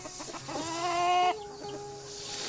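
Chickens cluck inside a coop, with a few quick close clucks building into a louder drawn-out call, and then steady hen chatter continues, with no talking.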